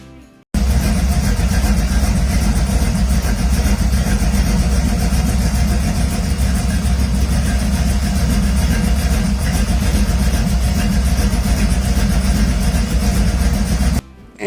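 A pro street car with a custom 3-inch exhaust and mufflers or cutouts idles close by, a loud, deep, steady rumble with a lumpy pulse that fills the whole stretch before cutting off.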